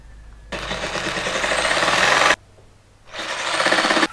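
A jigsaw cuts through wood in two loud, close bursts of buzzing motor and blade chatter, separated by a brief pause.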